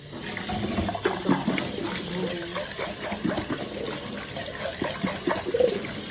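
Green peas rinsed under a running kitchen tap, a steady close splash of water pouring over them throughout, with some clatter mixed in and no talking.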